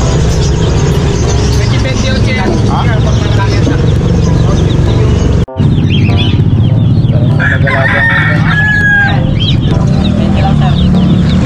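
A rooster crows amid clucking chickens at a busy animal market in Bulacan, all under steady background chatter and passing traffic noise in a noisy setting.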